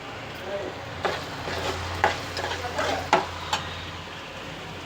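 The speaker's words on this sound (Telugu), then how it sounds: "నేను పక్కన చింతపండు రసాన్ని మరగబెట్టుకుంటున్నాను" A pot of tamarind juice simmers with a soft, steady bubbling hiss, broken by a few louder bursts and light clinks nearby.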